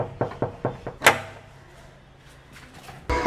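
An interior house door bangs and rattles in a quick run of knocks, then a louder opening thud, with a quiet stretch before a second bump near the end.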